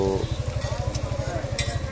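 Onion and carrot frying for chicken pakora, cooked outdoors at a village edge by a forest, with a steady sizzle under a rhythmic low stirring or scraping pulse repeating throughout.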